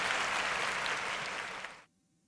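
A burst of crowd applause, dense and steady, cutting off abruptly into silence after about two seconds.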